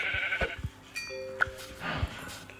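Sheep bleating in a video game, a few short nasal bleats spaced out among other soft game sounds, fairly close and moderately loud.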